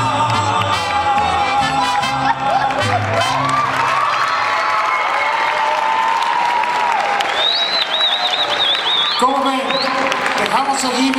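Audience applause and cheering for a mariachi band, a loud sustained crowd clapping with whoops and shouts throughout, music and voices blending in underneath.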